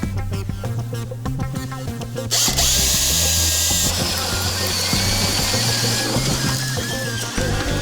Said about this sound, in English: We're gonna drill right through there at this point with the 2 9/16 drill bit.